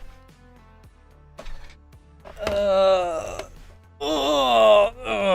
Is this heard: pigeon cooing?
no